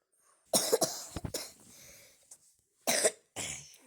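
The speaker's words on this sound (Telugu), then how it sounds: "దగ్గు ఉందట గైస్." A person nearby coughs in several sharp, separate bursts with short quiet gaps between them, followed by a softer throat-clearing sound.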